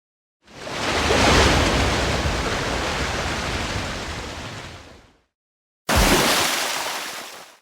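Sea waves roll onto a beach in an animated cartoon, one long loud wash swelling and slowly fading, then a fresh breaker crashing in after a short silence.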